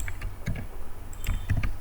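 Quick keystrokes on a computer keyboard as login details are entered, a short burst of crisp, close clicks in an irregular rhythm with no talking.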